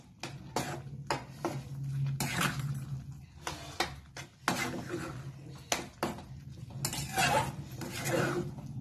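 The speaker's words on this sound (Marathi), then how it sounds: "आता हे चांगलं मिश्रण हलवायचं" Metal spoon stirring a semolina mixture in a cooking pot, scraping and clinking against the sides in repeated close strokes, with a low steady hum underneath.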